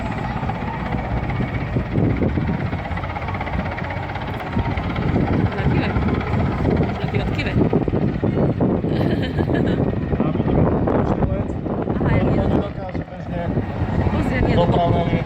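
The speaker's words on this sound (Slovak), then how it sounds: "Vrtuľník Mi-171." A twin-engine Mi-171 helicopter at the Košice air show roars steadily overhead, a continuous dense rotor and engine wash that holds for the whole stretch, with someone talking over it throughout.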